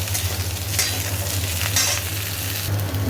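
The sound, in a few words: vegetables frying and being stirred in a pan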